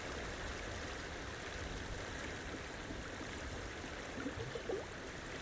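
A fresh water stream in the video game Cairn flows with a steady, even rush and soft trickle, constant and fairly close, with no talk over it.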